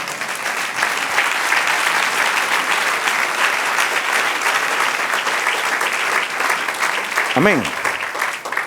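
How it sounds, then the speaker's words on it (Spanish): A church congregation claps steadily and loudly for several seconds, a dense sustained applause with a voice saying a short word near the end. "Den un aplauso al Señor."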